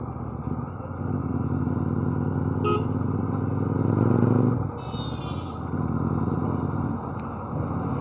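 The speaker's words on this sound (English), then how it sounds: "to demonstrate a clutchless upshift, while at the same time I am also going to demonstrate a few instances of rev match and downshifting." A manual-transmission car driven on a road, engine droning steadily as it makes a clutchless upshift and several rev-matched downshifts, with revs swelling and dropping and a brief sharp blip midway, heard close without talk.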